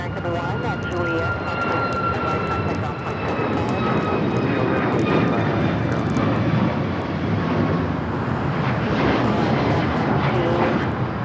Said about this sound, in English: taking off to Cancun on the MAX 9 in the Seattle Kraken livery